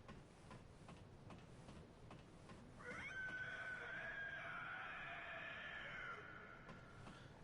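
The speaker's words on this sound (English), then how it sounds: "when we climb up this ladder, we will hear the scream of the Cleric Beast coming from the Great Bridge" A distant, drawn-out wailing scream of the Cleric Beast carries from the Great Bridge in Bloodborne's Central Yharnam, rising after a quiet ambient start and wavering for about three seconds before fading under a low game ambience.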